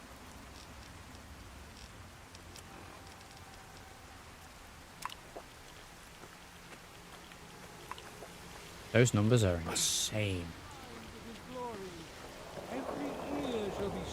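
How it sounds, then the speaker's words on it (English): Steady radstorm rain in a Fallout game, a continuous hiss of falling drops at moderate level throughout, with a few faint clicks, a brief spoken remark partway through and a louder rushing surge near the end. "It's still Radstorm."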